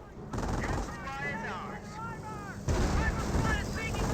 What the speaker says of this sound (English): That's a strafing run there.